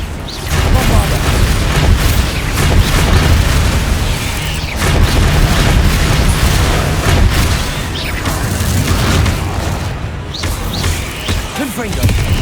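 Bombarda spell explosions in Hogwarts Legacy, repeated booming blasts and crackling bursts stacked close together over a dense, loud combat din.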